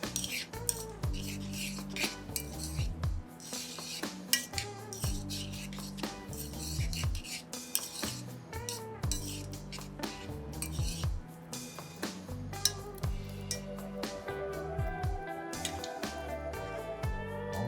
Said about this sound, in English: Let's give this a stir.